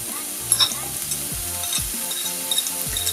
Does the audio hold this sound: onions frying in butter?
yes